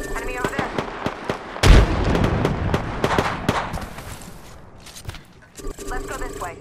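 A frag grenade blast in the Apex Legends video game lands as a sharp explosion amid scattered gunfire, followed by rumbling debris and more shots, with a voice talking over the action.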